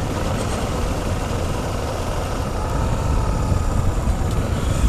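Honda XRE 300 motorcycle with its original stock exhaust idling steadily nearby, a continuous low engine rumble holding at an even level throughout with no talking.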